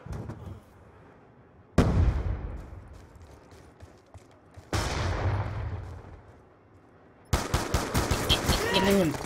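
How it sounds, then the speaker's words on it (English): Semi-automatic FAL rifle fire in Black Ops 2: loud sharp shots come in three separate bursts, each followed by a decaying echo, the last a quick run of rapid cracks. "I am running the FAL semi-auto."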